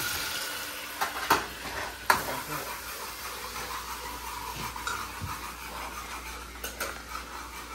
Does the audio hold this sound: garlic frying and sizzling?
yes